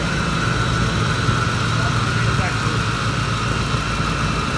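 A 2004 Ford F-150 engine idles steadily with a constant low rumble and a faint tonal hum, holding an even level throughout under nearby voices.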